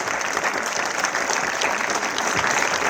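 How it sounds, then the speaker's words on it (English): A hall audience at a Republic Day celebration gives loud, sustained applause after an address, a thick continuous roar of clapping with no voices. "Let us have the loud applause coming for this beautiful address."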